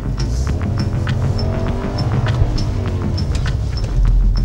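Infiniti Concept Vettel car driven hard on a racing circuit, engine note rising and holding steadily from inside the cabin, with regular ticking in the background and no talk.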